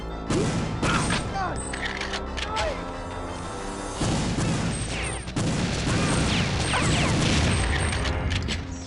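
Dual guns fire in the Perfect Dark video game, producing dense, loud bursts of rapid gunfire with booming impacts and mechanical game effects, and someone talks over the shooting.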